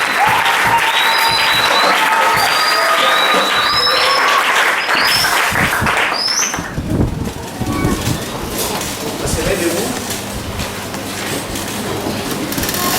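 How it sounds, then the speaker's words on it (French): A church congregation at a seminar applauds in worship, a dense, steady wash of clapping that carries on at full strength for the whole stretch, with voices and cheering mixed into the crowd noise. "Acclame pour le Seigneur, acclame pour le Seigneur."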